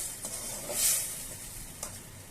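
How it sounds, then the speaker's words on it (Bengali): Fish and potato mash for Bogura-style alu ghati sizzles steadily in a pan while being stirred, with a brief louder hiss midway and a faint utensil scrape near the end, no voices. "এবার একটু নেড়ে চেড়ে দিয়ে"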